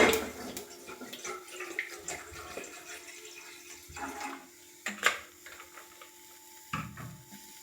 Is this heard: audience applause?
no